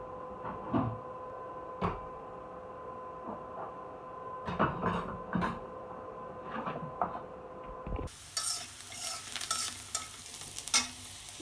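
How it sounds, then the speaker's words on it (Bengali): Whole panch phoron spices crackle and sizzle in a pan while a utensil clinks and scrapes against it now and then; the frying grows louder and brighter near the end. "হালকা করে ভাজা নিমু"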